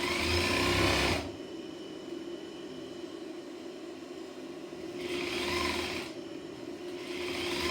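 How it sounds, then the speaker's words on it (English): A sewing machine stitches stretched, taut fabric layers in two short runs of steady whirring, close and fairly quiet, separated by a stretch of near silence. "So stitch up to your hand, then stop"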